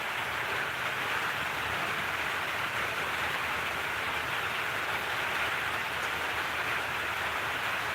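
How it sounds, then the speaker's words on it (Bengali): Heavy rain pours down steadily in a dense, even hiss that stays constant from start to finish, with no voices over it. "আমার প্রচণ্ড বৃষ্টি হচ্ছে"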